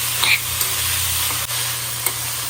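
Paneer stir-fries in a hot pan, loud and close, a dense continuous sizzle with a few soft stirring clinks and no speech.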